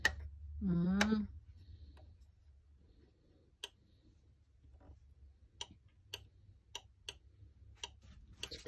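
A brand new heater pulled from a dumpster, malfunctioning and cycling on and off, gives sharp isolated clicks at irregular intervals over a low hum, with a brief vocal sound near the start.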